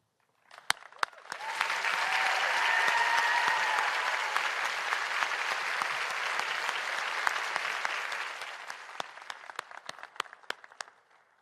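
A graduation crowd applauds faculty and staff at a commencement ceremony, swelling into sustained, dense clapping that holds for several seconds and then thins into scattered claps near the end.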